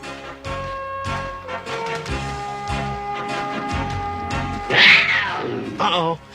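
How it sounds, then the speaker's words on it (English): A hungry saber cat gives a string of loud, close, yowling snarls with rising and falling cries, then a sharper outburst near the end. "Uh-oh, saber cat."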